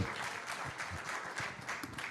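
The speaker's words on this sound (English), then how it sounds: "A round of applause as she comes up." Sustained applause from a conference audience at an HR professionals' forum, a dense, steady wash of many hands clapping at a moderate distance with no speech over it.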